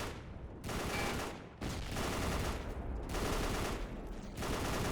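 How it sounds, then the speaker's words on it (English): Sustained rapid machine gun fire and overlapping gunshots in the WWII shooter Battle for the Pacific on Leyte Island, loud and continuous bursts with brief pauses, no talk. "Taking out these machine gunners in the distance."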